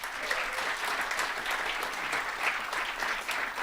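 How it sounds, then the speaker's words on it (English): A conference audience at Theorizing the Web 2019 applauds the organizing committee, a steady, fairly distant patter of many hands clapping without a break. "Bigger round of applause to them."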